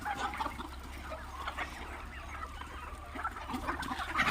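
Several hens cluck in short irregular bursts close by, their calls overlapping against a low steady background hum.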